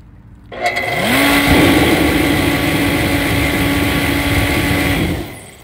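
A torpedo heater running on a homemade fuel mix fires up after a short pause, ramping into a steady, loud, high-pitched roar that holds for several seconds and then cuts off abruptly.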